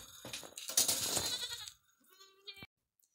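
Goats bleating during a farm roundup, a loud burst of overlapping bleats followed by a shorter, fainter call, close to the listener.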